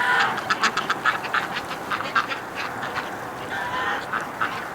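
Ducks picking at straw on a snowy winter lawn let out a rapid run of close quacks, steady and busy, with a few louder calls standing out.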